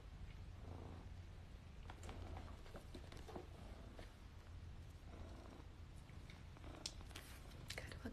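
A cat purring close by, a steady low rumble that runs throughout under faint rustles and scattered small clicks.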